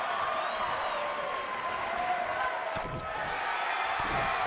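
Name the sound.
arena crowd cheering in Utica, from video game WWE 2K19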